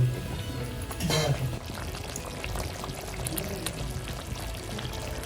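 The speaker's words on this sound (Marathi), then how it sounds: "थोडस पाणी घालूया" Water is poured into a Malvani-style fish curry paste of ground onion and coconut with kokum, a brief close pour near the start, then soft simmering and stirring sounds.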